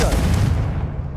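In the Hogwarts Legacy video game, a Confringo blasting spell goes off as a single deep, booming explosion that starts loud and rumbles away over about a second.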